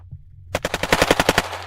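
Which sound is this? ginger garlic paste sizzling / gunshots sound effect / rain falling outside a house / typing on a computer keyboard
gunshots sound effect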